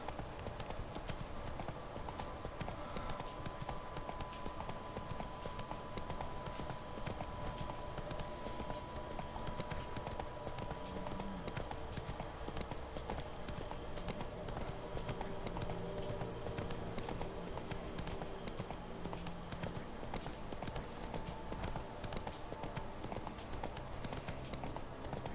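Horse hooves clip-clop at a steady galloping rhythm through the Witcher 3: Blood and Wine game world, running continuously under a dense layer of ambient music and environmental sound, with a brief voice occurring at one point.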